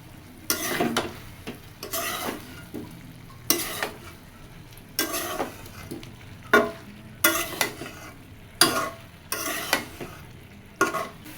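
Curry being stirred in a pot over the heat, a run of about a dozen distinct scraping spoon strokes at a loose, regular pace over a soft background sizzle, close and without talk.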